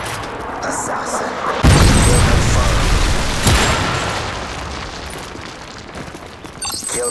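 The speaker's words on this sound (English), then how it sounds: "Friendly predator missile inbound." Predator missile explosion in Call of Duty: Modern Warfare 3, a sudden loud blast that rolls into a long rumbling decay, with a second sharp crack partway through and game voices around it.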